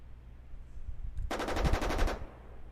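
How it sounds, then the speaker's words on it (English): A tank's bow machine gun fires in the Armoured Commander II video game, one rapid, evenly spaced burst of about ten rounds lasting under a second, loud and close over a low background hum. "Here's the bow machine gun that the driver is deciding to shoot."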